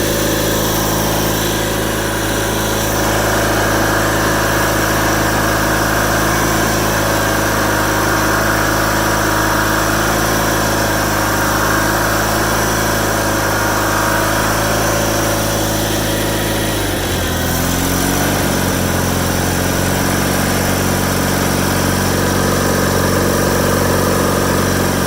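The engine of a 1987 John Deere 318 lawn tractor runs close and loud with a steady idle drone, shifting in pitch about two-thirds of the way through.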